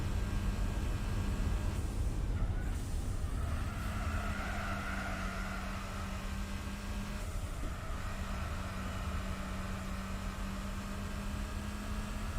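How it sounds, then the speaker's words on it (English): A car in the Gran Turismo 4 racing game, heard from a bumper cam, gives a faint steady engine drone with a thin turbo whine running underneath, continuous and distant in the mix. "You can actually hear the turbo a little bit better in this view as well."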